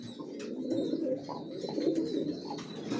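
Racer pigeons coo in a low, soft, continuous throaty murmur close by, with overlapping calls from several birds and faint chirps above.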